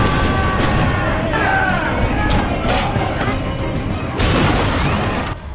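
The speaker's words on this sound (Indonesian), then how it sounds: "anak buah Shishio mulai menembakkan bom meriam ke arah pantai tempat" Cannon fire from a warship in a film battle toward a shoreline, heavy booming blasts landing at irregular intervals over a loud, dense rumble of action sound.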